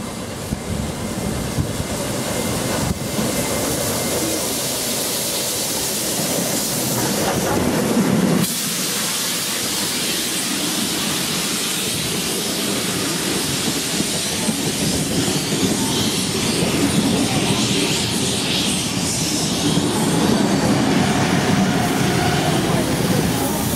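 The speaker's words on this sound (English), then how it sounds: "We now see the steam locomotive and its train heading into Wollongong Station now." A 36 class steam locomotive and its train roll into Wollongong Station with a long, steady rumble and hiss, the sound shifting partway through and staying loud and close throughout.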